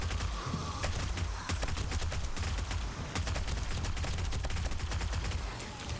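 A drum-magazine gun fires in a horde-mode shooter, sustained rapid automatic bursts rattling loud and close with heavy low thumps, barely pausing as shots blur into a dense continuous stream.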